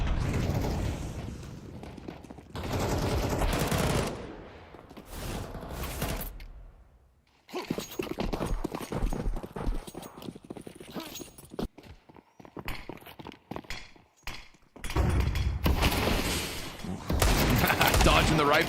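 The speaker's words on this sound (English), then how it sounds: "Dodging the rifle shots." Rifle shots crack during a Counter-Strike match on the Mirage map at a major tournament, arriving in scattered bursts among footsteps and mechanical clatter, with stretches of quieter gaps and talk over the action.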